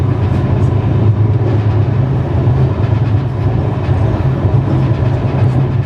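A loud, continuous rumble of a semi high speed Indian train running on rails while overtaking another train, with a steady low drone and rhythmic rattling, no voices.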